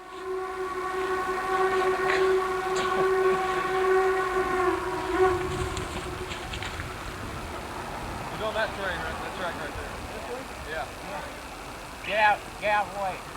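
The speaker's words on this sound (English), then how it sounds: "1218 on the northbound National Railway Historical Society excursion train to Greenville" Locomotive 1218 hauling a northbound National Railway Historical Society excursion train to Greenville, with a long, loud steady horn blast giving way to the rumble of passing cars, while people talk and call out nearby.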